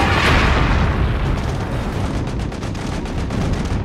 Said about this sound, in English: a dive bomber makes a direct hit on the Big E's deck.